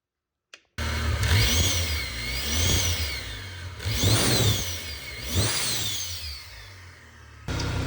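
A K-swapped Mini Cooper engine warming up, revving loudly three times in rising and falling sweeps over a steady idle rumble, close by, with no talking.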